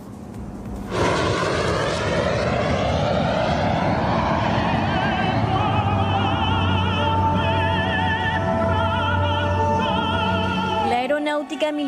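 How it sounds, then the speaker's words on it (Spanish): Italian Air Force planes fly overhead in an air show of ten aircraft, a loud jet roar that swells in suddenly and sweeps on for about ten seconds before cutting away. "Italia realizó un espectáculo aéreo en el que 10 aviones de la fuerza sobrevolaron el cielo"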